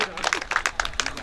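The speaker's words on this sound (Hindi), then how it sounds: "मैं चाहते एक बार अपन सम्मान में जोरदार ताली बजा देवा" An audience at a Hindi poetry gathering, a kavi sammelan at a temple consecration event, claps in bursts of uneven applause, with a voice talking over the clapping.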